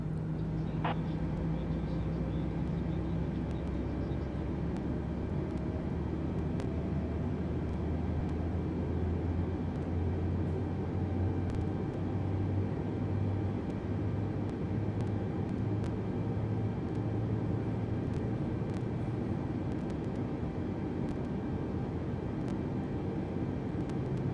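An airplane taxiing to the runway gives off a continuous low engine hum, with a tone that slowly rises and falls, plus faint intermittent clicks throughout.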